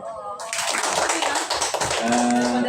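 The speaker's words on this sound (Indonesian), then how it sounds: "Tepuk tangan." Applause from an audience at a school teachers' community learning session, thanking the presenters: dense clapping starts abruptly after a brief lead-in and continues steadily at close range, with a voice or tonal hum underneath toward the end.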